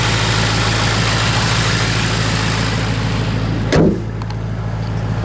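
Porsche Panamera Turbo S E-Hybrid Sport Turismo idling, a steady low engine hum with a short mechanical clunk or rattle near the end, close and alone.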